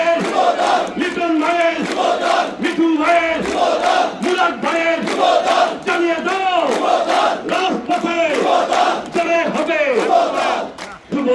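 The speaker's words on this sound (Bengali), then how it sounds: "র্যালিতে অংশগ্রহণকারীরা দলীয় পতাকা ব্যানার ও ফেস্টুন হাতে বিভিন্ন স্লোগান দেন" Rally participants carrying party flags, banners and festoons at a Rangpur youth wing anniversary procession chant slogans in loud, rhythmic unison, a massed crowd of voices repeating call-and-response phrases continuously throughout.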